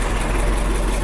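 A Ford Formula 2000 race car engine running, a brief, loud, steady low rumble heard up close.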